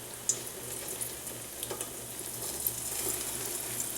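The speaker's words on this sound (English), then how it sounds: "I'm going to add the rolled out dough like we did before" Rolled-out dough for Trinidad fry bakes sizzles steadily in hot oil, a continuous bright frying hiss with a few small pops, close and alone with no talking.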